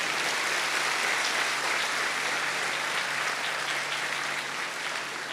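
A large gathering applauds local police for their arrangements and service at a religious event, with dense, steady clapping sustained throughout at an even level and no talk.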